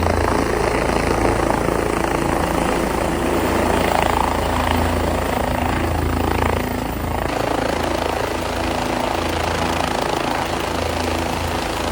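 Helicopter at the Kedarnath helipad in the Himalayas, its steady rotor and engine drone filling the whole stretch at close range with a constant loud wash and no talking.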